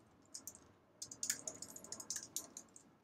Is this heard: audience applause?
no